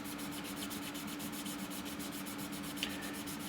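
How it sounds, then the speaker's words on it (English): Gentle sanding of a 3D printed part rubs back and forth in a steady, even rhythm, close up and soft, with a faint constant hum underneath. "But they go away with a gentle sanding."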